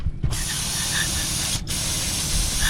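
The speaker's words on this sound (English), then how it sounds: "We're just gonna spray all the gunk and crap off of it" Aerosol carburetor cleaner hisses steadily from a can onto an old Quadrajet carburetor taken off an 88 Camaro 305, a loud continuous spray with one brief pause before it resumes.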